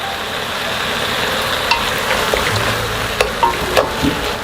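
Beef and seaweed stir-fry in a pan with garlic, anchovy fish sauce and tuna extract for beef seaweed soup, giving a steady close sizzle broken by occasional light clicks of a stirring utensil, with no talking.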